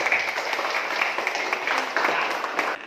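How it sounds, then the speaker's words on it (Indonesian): A group claps together at a school or class gathering, producing dense, steady applause throughout before it cuts off near the end. "tepuk tangan dulu untuk kita semua"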